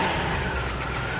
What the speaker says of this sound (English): The man who built the bike fires it up.